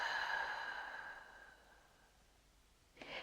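A single long, soft exhale during a seated neck stretch in an office chair. It is close and breathy and fades away over a couple of seconds, then a brief rustle follows.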